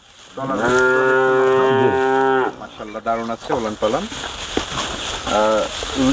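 Loud, drawn-out Holstein Friesian cow moos, one long low call followed by shorter bellows and a final moo, close by at a farm with some background noise.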